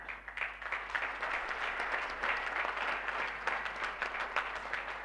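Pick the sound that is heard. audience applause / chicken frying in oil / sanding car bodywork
audience applause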